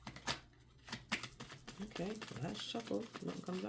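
Tarot cards shuffled by hand in a few quick riffling bursts near the start, then a soft continuing card shuffle sitting under a person's talking.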